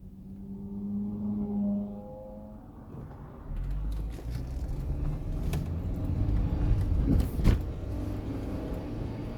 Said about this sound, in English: And there's a whole slew of cars coming.